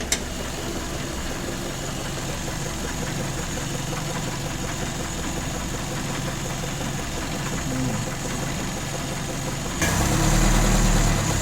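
A Citroën Traction engine idles steadily without the choke, a close, even mechanical rumble with a faint knocking texture that continues throughout, growing louder and heavier in the final second and a half. No voices are heard.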